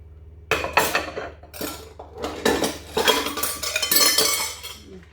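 Dishes, pots and cutlery being washed in water at a kitchen sink, with repeated clinks and clatters of metal and crockery knocking together, close and fairly loud, alone without talk.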